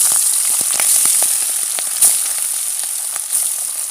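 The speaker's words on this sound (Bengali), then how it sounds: "ওই তেলে আমি আবার মাছ দিয়ে দেব" Pabda fish frying in hot oil in a village kitchen: a loud, continuous sizzling hiss with scattered sharp crackles and pops, heard close and alone.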